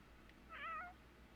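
A single short cat meow from a video game, soft and fairly quiet, rising and falling once over a faint steady background hum, with no voices.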